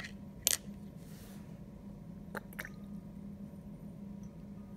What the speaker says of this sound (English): Again, placing drops onto the head side of the penny.